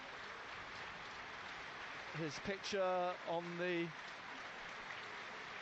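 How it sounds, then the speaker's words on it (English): A stadium crowd applauds throughout a football match between Sunderland and Middlesbrough, a steady distant wash of clapping with a commentator talking over it partway through. "It's applause for Fletcher Jackson."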